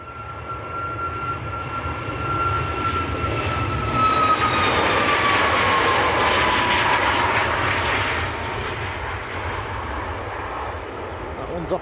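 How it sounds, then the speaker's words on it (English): Ryanair Boeing 737 Max airliner taking off at Manchester Airport, its jet engines a loud, steady roar that swells to a peak midway and then eases as it climbs away, with a rising whine on top and voices talking beneath. "Ryanair Max next to lift off."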